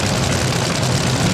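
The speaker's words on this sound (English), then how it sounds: "it's front engine fuel time as we get ready to fire them up here and make it happen" Front-engine top fuel dragsters fire up at a Midwest Drag Racing Series event in St. Louis with a loud, thick, continuous engine roar in a brief burst.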